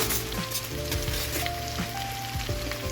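Oxtails cooking in tomato puree, a steady close sizzle and bubbling crackle with scattered small pops, alone without talk.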